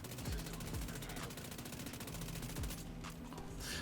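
Rapid automatic gunfire rattles in The Division 2, a dense stream of shots with a few heavier booms, loud and continuous before briefly thinning near the end.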